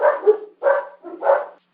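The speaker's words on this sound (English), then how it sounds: "That's why your dog's barking." A dog barks three times in a row, close and clear, with short pauses between each bark and silence after.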